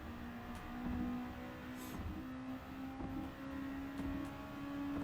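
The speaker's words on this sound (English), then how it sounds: "Car seems to be driving pretty nice though." A car is driven in the racing game Gran Turismo 7, giving a faint, steady engine drone with a slowly rising pitch and no other sounds over it.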